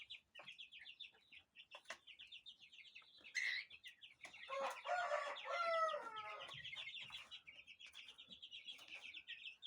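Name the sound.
chicks and chickens clucking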